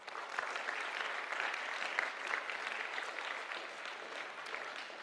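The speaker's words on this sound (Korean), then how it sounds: "우리 청년들에게 우리 박수 한번 보내주시겠습니까?" A congregation in church applauds the young people with even, sustained clapping heard from across the room, moderately loud and unbroken, with no voices on top.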